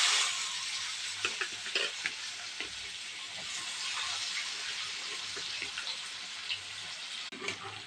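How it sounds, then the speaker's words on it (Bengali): Chopped onions with whole cumin seeds sizzle steadily in hot oil, browning to a reddish colour, while a utensil scrapes and stirs them in the pan at close range, with no talking. "পেঁয়াজটা লাল লাল মতন ভাজা হয়ে গেছে"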